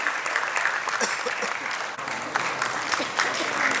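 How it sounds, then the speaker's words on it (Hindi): Enthusiastic applause from guests at an annual award ceremony welcoming the chief guest, a dense continuous wash of clapping throughout with faint voices mixed underneath. "जोरदार तालियां लेडीज एंड जेंटलमैन"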